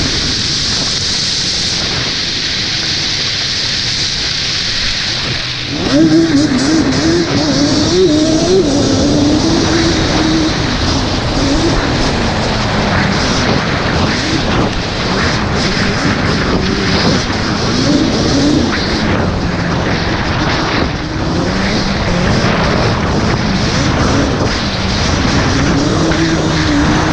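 Yamaha Banshee and YFZ450 ATV engines rev hard on a hill climb, a loud, close, continuous roar that swells and climbs in pitch partway through and stays at full throttle.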